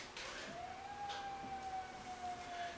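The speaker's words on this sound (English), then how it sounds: "Okay, this time it is a siren" A faint, distant siren wails, its tone rising and then holding in a long, steady note over quiet background hiss.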